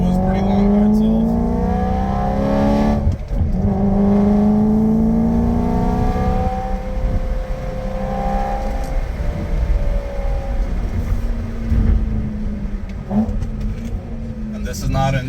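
A BMW E90 M3 with a six-speed manual revs hard, its engine pitch climbing and falling in repeated sweeps, loud and close throughout, with a voice talking over it.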